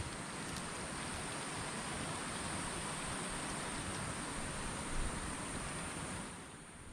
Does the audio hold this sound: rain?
yes